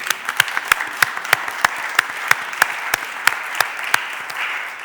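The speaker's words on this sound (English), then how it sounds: "can we just give Jawad a round of applause, please?" A small group claps at a Philadelphia City Council stated meeting, with sparse, distinct individual claps in a loose rhythm, close and fairly loud, over a low room murmur.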